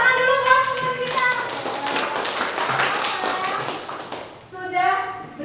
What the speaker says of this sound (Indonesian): Beri tepuk tangan dulu buat teman kita.